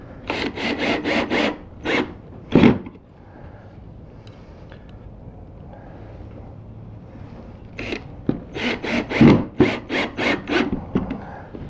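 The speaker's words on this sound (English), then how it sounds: "I'm going to go ahead and drive these screws in." Screws driven into a wooden side table with a power driver, heard as quick bursts of rasping, grinding whirs in two groups separated by a quiet stretch of faint handling noise.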